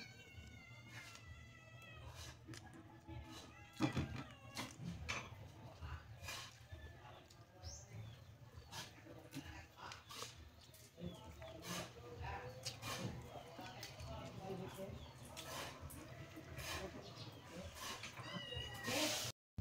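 A cat meows repeatedly and insistently at home, the calls rising and wavering over a low steady hum, close and fairly loud, with a few sharp clatters mixed in.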